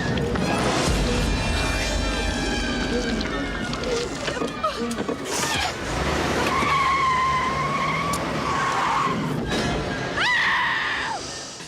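Tires screech and skid loudly as a car reverses and brakes hard in a scene from the 1996 film Scream, with engine roar, a scream and shouting voices mixed in over nearly twelve seconds.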